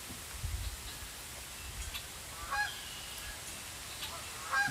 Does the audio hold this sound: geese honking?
yes